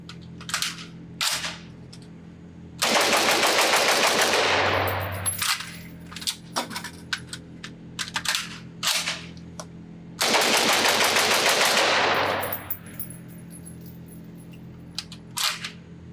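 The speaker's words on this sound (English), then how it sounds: "see how fast I can shoot this in a quick burst" Vector Arms V53, a roller-delayed HK53 clone in 5.56mm, fired on an outdoor range in two long rapid bursts, each about two seconds of loud continuous automatic fire, separated by scattered single sharp shots and clatter.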